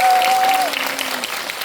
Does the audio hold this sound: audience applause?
yes